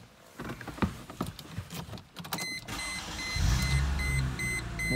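A 2004 Chrysler Crossfire with an automatic transmission cranks and catches, its engine settling into a steady close idle after a few clunks and chimes from the cabin.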